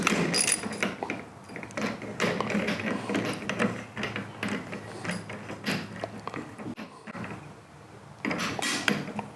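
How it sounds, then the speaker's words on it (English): Socket wrench tightening a nut on a 6311 series camper crank system, dense rapid ratcheting clicks and metallic clatter close up, continuing with brief pauses. "And I really should have changed my socket before I started this part. And we'll go ahead and tighten this up."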